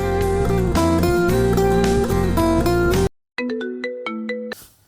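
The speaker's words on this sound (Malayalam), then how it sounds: "പെട്ടെന്ന് ഫോൺ റിംഗ് ചെയ്യുന്നു." A loud electronic phone ringtone plays a melodic looping tune, then cuts briefly and resumes with a few sparse tones.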